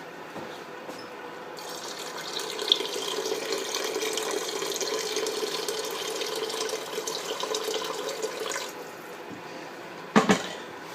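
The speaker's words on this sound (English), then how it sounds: "Put some filtered water in." Filtered water pours from a tap into a cooking pot in a steady, close splashing stream for about eight seconds, then stops, followed by a brief clink near the end.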